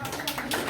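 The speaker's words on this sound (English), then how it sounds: "Big applause for Delia." Applause and clapping from a comedy roast audience at a birthday show in Shenzhen, China, a brief dense burst of claps with some voices mixed in.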